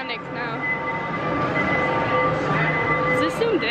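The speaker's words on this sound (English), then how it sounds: "there's a train in our mall if you guys didn't know" A train running inside a shopping mall gives a steady rolling rumble with a sustained tonal hum, heard close and continuous under busy indoor crowd noise.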